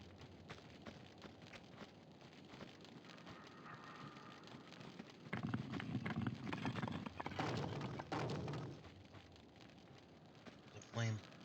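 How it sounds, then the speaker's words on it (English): Footsteps in the Tomb Raider 2 video game, on the Wreck of the Maria Doria level, tap in a loose rhythm beneath a dense crackling, rumbling game ambience that swells midway, with a short bright burst near the end. "I hear footsteps."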